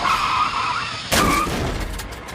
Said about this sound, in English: slam the brakes hard